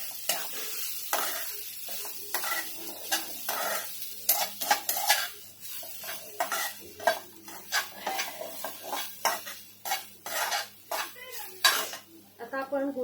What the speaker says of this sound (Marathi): हे चांगलं हलवून घेऊया मिक्स करून घेऊया